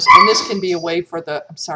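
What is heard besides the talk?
dog barking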